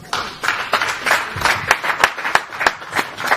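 An audience at a Dunamis Centre family Sunday church service claps in a steady, moderately loud rhythm, individual hand claps standing out as crisp repeated strikes over a roomy background.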